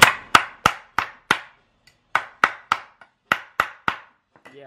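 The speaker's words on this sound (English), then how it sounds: "after you get it slightly bent and you take a hammer at it" A hammer strikes a bent metal bracket in sharp, loud, ringing blows, grouped in quick runs of three to five with short pauses between, close by and with no speech.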